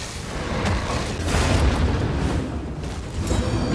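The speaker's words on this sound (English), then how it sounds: "Light grenade to put damage over time on." A light grenade explodes in the video game Darkest Dungeon 2, in a burning city: dense, rumbling bursts of blast and crackle swell and roll on for several seconds, loud and full, with no talk.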